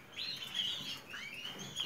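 Nestling birds in a breeder's aviary give several thin, high chirps and squeaks in quick succession, soft and close, with no talking over them.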